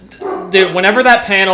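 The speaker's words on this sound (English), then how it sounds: "Apologies for the dog barking in the background" A dog barks and yips in the background, several sharp, loud barks overlapping someone talking.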